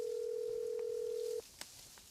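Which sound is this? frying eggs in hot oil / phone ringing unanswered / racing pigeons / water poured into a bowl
phone ringing unanswered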